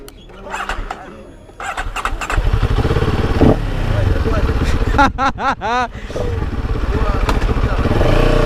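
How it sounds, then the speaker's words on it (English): A CFMoto CLX 700 Sport motorcycle fires up and rides off, its engine rumbling steadily and revving in a few sharp bursts, with talk heard over it and close clatter at the start. "this is just a test ride of the CLX 700 Sport"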